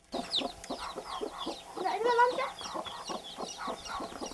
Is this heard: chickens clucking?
yes